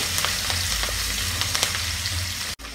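Chana dal and urad dal crackle in hot oil as a tempering after mustard seeds, a close, busy sizzle with scattered sharp pops, ending in a sudden brief cut.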